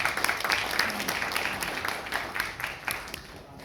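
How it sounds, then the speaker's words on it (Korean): An audience applauds to welcome the chairman of a public-interest foundation to the stage at a lecture event, a steady, moderately distant wash of clapping that runs throughout at even loudness. "박수 쳐서 맞이해 주십시오."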